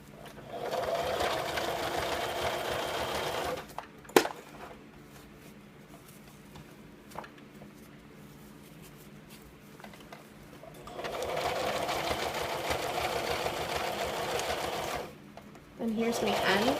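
A sewing machine stitches elastic onto a cloth diaper in rapid whirring bursts, running for a few seconds, pausing with a clack, then running again twice more, close by.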